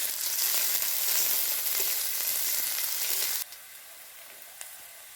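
Chopped onion dropped into hot oil in a pan while making chowmein, a loud steady sizzle close up that abruptly drops to a quieter frying hiss.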